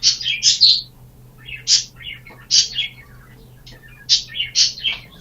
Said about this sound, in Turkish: Ya şu kuşları sustur lan.